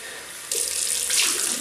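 Tap water runs steadily into a sink to rinse off after a wet shave with a double-edge safety razor, starting abruptly after a brief quiet moment and continuing close and even to the end.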